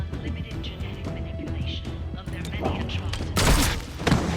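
Gunfire in the video game XCOM Chimera Squad, a sharp burst of shots and booms late in the clip following mechanical clicks, with someone talking over the action.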